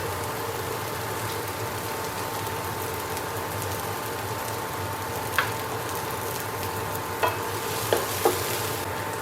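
Garlic and shallots frying in a pan, a steady soft sizzle with a few scraping clicks from stirring toward the end, moderately quiet and close, no talking.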